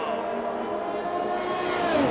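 Race cars lapping Zandvoort in a racing video game, with a steady high engine whine and shifting tonal pitch sweeps, heard under continuous commentary.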